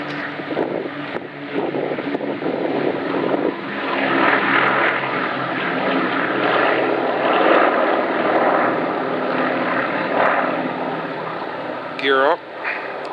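A B-17 Flying Fortress named Aluminum Overcast, a four-engine propeller bomber, drones loudly and steadily through the whole stretch just after takeoff, with wind buffeting the microphone and people talking over it.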